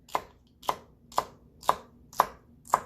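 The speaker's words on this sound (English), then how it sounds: "if you want to just chop celery, if the recipe doesn't really specify, you just cut it in half" Six evenly spaced knife chops through celery on a cutting board, each a crisp, close thud with a sharp attack, falling roughly every half second with quiet gaps between.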